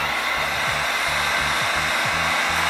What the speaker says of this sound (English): Actually, the heat gun is right here. Let me try it real quick.